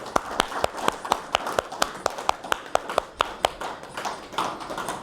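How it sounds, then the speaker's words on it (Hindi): A group in a yoga and aerobics class claps for their teacher: a brisk run of sharp, evenly spaced claps that loosens into scattered clapping toward the end. "पहले सब अपने लिए और आचार्य जी के लिए तालियां बजा लेते हैं"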